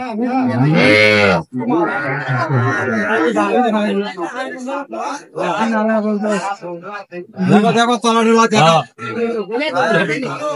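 Cows low and moo repeatedly at a busy open-air livestock market with cows and calves, overlapping close, loud voices of people talking and bargaining nearby.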